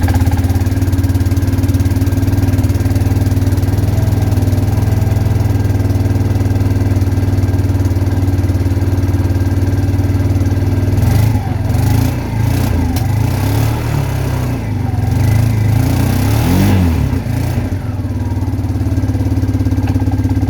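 A cold small engine runs loud and close with a steady drone, then throttle changes midway give several rougher surges before it settles.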